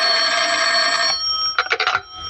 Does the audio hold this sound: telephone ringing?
yes